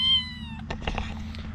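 A cat gives a loud, clear meow near the start, followed by softer rustling and small movement noises.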